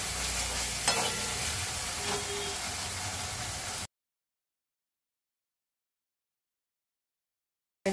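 Tomato hitting hot oil and chilli-powder spice paste in a pan, a close, even sizzle with a couple of light clicks for about four seconds, then abrupt silence before a brief burst at the very end.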